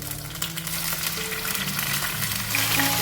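Tomatoes hit hot oil in a home pan for bhindi pyaz, giving a steady broadband sizzle that holds for about three seconds, close and moderately loud, with faint low hum underneath and no talking.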